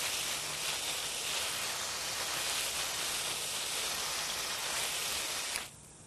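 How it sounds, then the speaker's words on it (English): A basic hose-end sprayer screwed onto a garden hose sprays a mix over flowering plants, giving a steady, loud hiss of spray for several seconds that cuts off abruptly near the end. "We use a basic hose-end sprayer, screws right onto the end of the hose"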